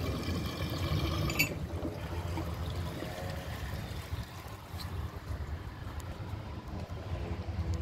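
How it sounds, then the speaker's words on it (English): Water poured into a Compton toilet, a continuous trickling, splashing stream that runs steadily for several seconds, close and moderately loud with no talking. "I'm going to add a little water to this."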